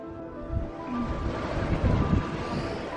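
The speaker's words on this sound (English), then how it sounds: "It's very windy." Wind gusting by the sea, buffeting the microphone with a steady low roar and faint surf underneath, no talk.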